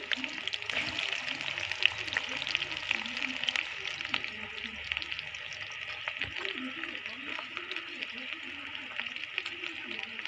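Onion and chilli frying together in a pan give a steady, close hiss of sizzling oil that runs throughout, with soft stirring scrapes and a faint background voice.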